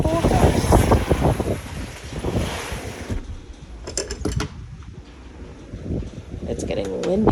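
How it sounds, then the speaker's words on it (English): Wind gusts buffet the microphone outdoors near the shore, loud rough rumbling that eases off midway and then builds again, with a voice talking faintly underneath. "It's getting windy out here."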